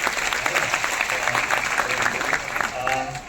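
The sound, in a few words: audience applause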